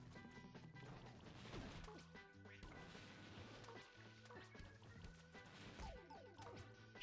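Objects are smashed in Super Mario Odyssey during a mini boss level, with repeated crashing and thudding impacts over a dense game soundtrack, fairly quiet overall.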